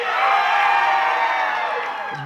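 A wrestling arena crowd cheers loudly, a sustained roar of whoops and shouts that holds strong then begins to fade at the end.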